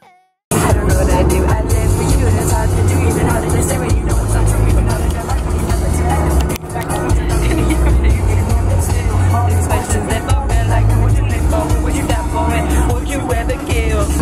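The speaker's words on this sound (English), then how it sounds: "We've been in the car for way too long." Inside a moving car on a long drive, a steady, loud rumble of road and engine noise fills the cabin throughout, with music and voices layered over it.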